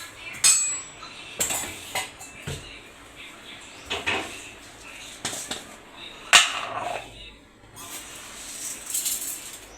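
A measuring cup scoops dry lentils from a container while metal utensils clink and tap sharply at irregular intervals, close up, under a voice speaking Telugu.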